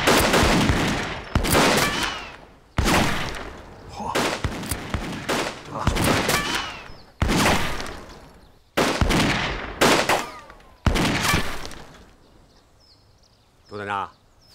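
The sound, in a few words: volley of gunfire from soldiers firing in a war film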